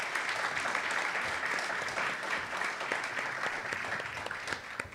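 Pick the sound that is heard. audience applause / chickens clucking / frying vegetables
audience applause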